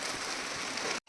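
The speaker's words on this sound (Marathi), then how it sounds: "बारीक पाऊस आलाय" Light morning rain, the first of the season, patters steadily as a soft even hiss, then cuts out abruptly near the end.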